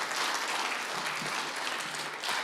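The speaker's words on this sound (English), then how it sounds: "that will be the only time that clapping is allowed" An audience claps at a council meeting, a steady patter of applause heard from within the room that swells and thins slightly across its short span, with no talk over it.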